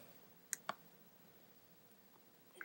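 A few faint computer mouse clicks sound in MS Word 2008 on a Mac, two close together near the start and one more near the end, over a quiet room hiss.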